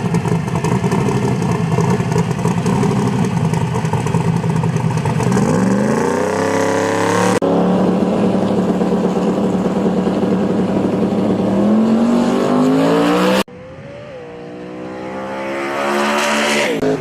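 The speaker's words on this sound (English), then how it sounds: "Dylan Peters zooming by car." Drag racing cars at a heads-up shootout in Canada, engines roaring loud and close as they rev and sweep past, pitch climbing and falling across a few passes with no voices.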